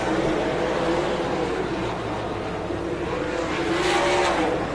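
Race cars circle a track in a steady, roaring engine wash that never lets up, a car flipped on the front stretch. The engines sound loud and continuous, with a slight swell near the end and no voices.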